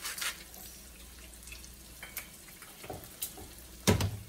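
Eggs frying in a pan for over-easy eggs, salted on top, giving off a faint, quiet sizzle with scattered soft crackles and pops and one sharper clink near the end.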